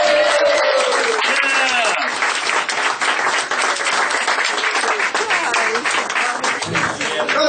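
A roast audience breaks into applause, loud sustained clapping from a crowd with voices and cheers mixed in, steady throughout and tapering slightly near the end.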